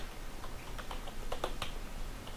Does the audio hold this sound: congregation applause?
no